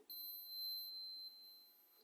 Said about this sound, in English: when I turn this on, you'll hear a buzzing noise or a beep